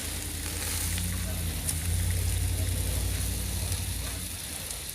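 Bacon sizzles steadily on an outdoor cowboy grill, a dense, even crackling hiss that stays close and continuous throughout with no pauses.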